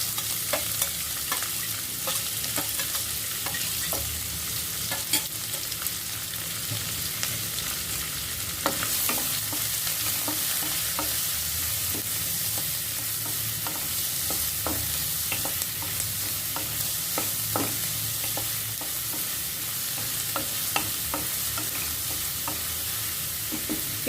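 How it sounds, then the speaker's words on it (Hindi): Finely chopped onions frying in oil for brinjal masala, a bright continuous sizzle with scattered spoon scrapes and taps as they are stirred, steady and close with no talking. "प्याज को हम स्लाइटली पिंक होने तक, जैसे ही गोल्डन ब्राउन होना स्टार्ट होगा तब तक भूनेंगे।"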